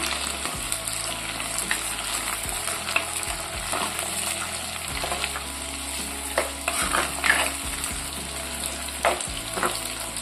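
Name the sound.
garlic, curry leaves, green chillies sautéing in oil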